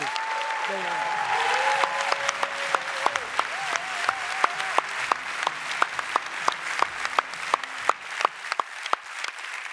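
A conference audience applauds the speakers at a demo day event, a dense round of clapping that starts under talk and settles into steady, sharp claps with a few distinct loud hands near the end.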